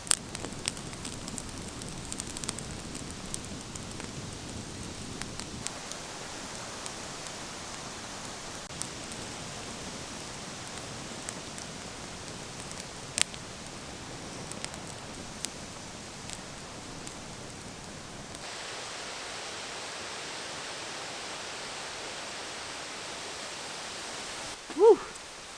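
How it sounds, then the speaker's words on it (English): Steady rain falls at night outside a mini cabin on wheels near a fading campfire, a continuous hiss with scattered drips and occasional sharp taps, quieter in the final stretch. "Rain's coming down a little harder."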